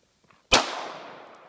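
A pistol fired one-handed gives a single sharp, loud crack with a short ringing decay, close by after a quiet lead-in.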